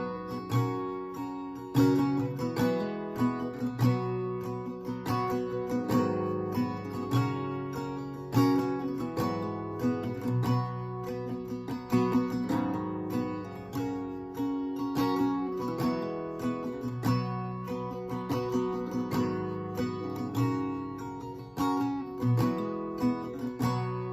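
Acoustic guitar strums through the full verse of a song in a steady, continuous rhythm of bright chords, played close and alone without any voices.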